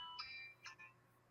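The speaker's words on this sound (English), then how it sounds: "phone's ringing" A mobile phone ringtone chirps faintly in a few short melodic bursts, quiet and somewhat distant in a quiet room.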